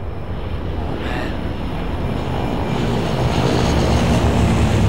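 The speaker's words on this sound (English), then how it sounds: "Airplane! Flying out of this place would be a lot easier than walking." A propeller airplane passes overhead in the zombie shooter Left 4 Dead, its steady engine drone slowly growing louder over the whole stretch, with no voices.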